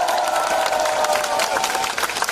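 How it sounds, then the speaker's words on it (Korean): Crowd of supporters at a South Korean presidential election rally for Moon Jae-in clapping and cheering together, a dense, steady wash of applause that stays loud throughout. "함께 박수 한번 보내볼까요?"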